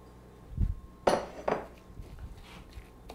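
Crab meat dropped into a large bowl makes a few hollow clunks and clinks of dish and utensil, a dull knock followed by two brighter ringing taps, then quiet handling sounds in a still kitchen.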